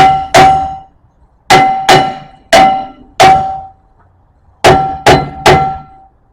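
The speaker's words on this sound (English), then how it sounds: "I'm going to remove this nasty rotor." Rusty rear brake rotor on a 2016 Mazda CX-5 being knocked loose, with about eight loud, ringing metallic clangs from hammer blows, delivered in quick clusters with short pauses between.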